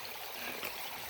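Creek water rushes steadily over rocks at a trail crossing in Big South Fork, Tennessee, a close, continuous broadband wash with no voices.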